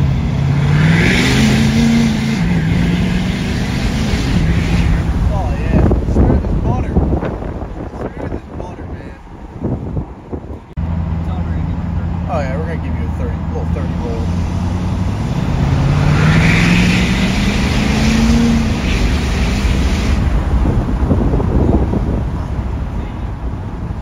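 Aluminium-bodied 2019 6.7 pickup truck driving, steady engine drone with two rising acceleration sweeps and heavy wind buffeting against the microphone, a brief dip in the middle.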